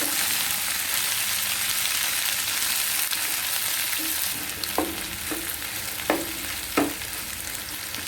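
Okra and spring onions fry in a pan with a steady, close hiss, while a few sharp scrapes and clatters of stirring break through near the end.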